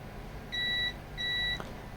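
Two short, pure electronic beeps from a multimeter continuity test, evenly spaced, sound over a faint hum, followed by a brief click.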